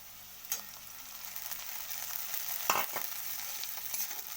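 Ginger-garlic paste frying in a pan for a jackfruit curry, a quiet steady sizzle broken by a couple of sharp utensil clinks or scrapes, with no talking.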